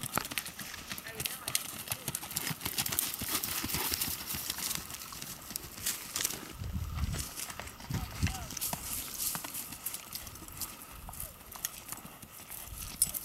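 Hooves of a Missouri Foxtrotter mare beat a steady, even clip-clop rhythm as she gaits outdoors, close and continuous, with a person talking over the hoofbeats.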